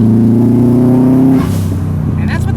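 A 2004 Subaru WRX STi engine drones loud and close while driving on a back road with the windows down, its steady tone easing off partway as the car lets up.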